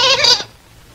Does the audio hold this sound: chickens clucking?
no